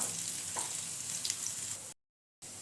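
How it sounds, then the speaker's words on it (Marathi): Coriander mutakule dumplings roast in a pan with a steady, moderate sizzle and a few soft clicks. The sound drops out briefly near the end, then returns. "आता आपण सर्व बाजूनी रोस्ट करून घेऊया।"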